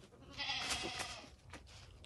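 A standing goat bleats in a few wavering, nasal cries that rise and fall over a second or so, fairly faint against a quiet outdoor background with no one talking.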